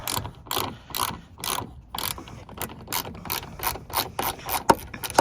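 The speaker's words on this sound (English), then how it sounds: "So I'm gonna go ahead and take that bolt off." A ratchet works a 10mm bolt loose from the brake light housing of a 2006-2015 Nissan Rogue, giving a rapid, regular series of close, crisp clicking strokes.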